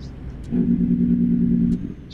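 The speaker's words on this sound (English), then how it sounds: "we got Z mods for the engine sounds" A steady truck engine drone in American Truck Simulator holds for about a second, then cuts off, with brief clicks around it.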